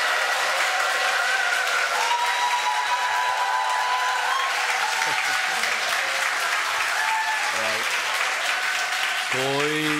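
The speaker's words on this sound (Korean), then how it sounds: "나오실 때 큰 박수 부탁드립니다." A church congregation at an ordination thanksgiving service claps loudly and steadily for a visiting pastor, a dense, sustained wash of applause with a voice briefly heard over it near the end.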